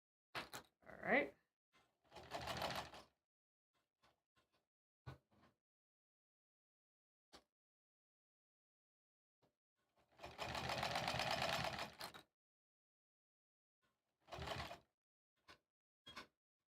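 An embroidery machine stitches a Sleigh Ride pillow cover in several rapid buzzing bursts, separated by quiet pauses filled only with a few scattered clicks.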